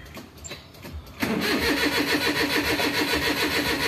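A Suzuki Multicab with an F6A engine, left soaked in rain overnight, cranks with a rapid, rhythmic starter whir that starts abruptly and continues without the engine catching. A quieter stretch comes first, and there is no talking.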